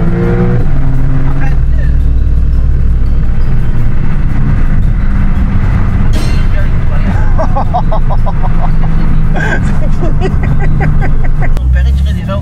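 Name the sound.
sports car accelerating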